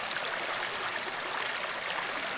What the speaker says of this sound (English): stick something in here, give yourself a small waterfall